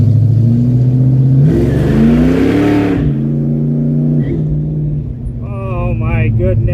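Ford Mustang converted to EFI, starting up and pulling away: a close engine roar with rising and falling revs, and a person speaking partway through.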